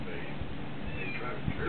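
A cat meows faintly against a muffled background, while a person talks quietly nearby.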